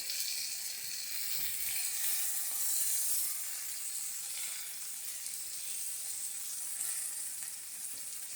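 Beer Italian sausage sizzles in a pan, a continuous close hissing crackle that swells slightly and holds steady without any voices.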